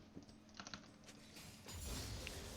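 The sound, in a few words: typing on a computer keyboard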